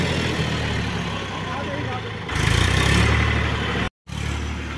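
An Eicher 333 tractor works in a muddy field, its engine chugging steadily with a low, rumbling throb that swells louder midway before a brief cut, with someone talking over it.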